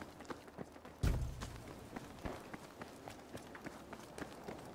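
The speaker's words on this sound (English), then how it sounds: "I heard him run upstairs." Footsteps of a soldier running upstairs in the Battlefield 5 shooter game, a sharp thud followed by a rapid run of light steps continuing throughout, moderately loud with no talking.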